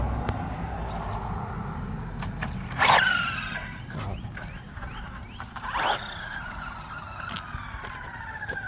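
A Wltoys 124008 RC buggy runs roughly, its electric motor whining and revving in rising and falling sweeps with two sharp surges over a constant mechanical buzz.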